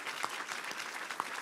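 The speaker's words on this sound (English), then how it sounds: "And now give them a round of applause." A short burst of clapping from an audience at a political candidate forum, steady and moderately distant, with a few sharper claps standing out.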